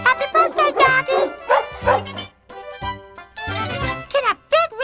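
Woofs and yips from a dog at a birthday party on a children's television show, interspersed with bright musical tones and tinkling, with voices in between.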